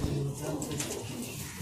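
High flyer pigeon cooing softly in a short low burst, faint and close, with a person talking in the background.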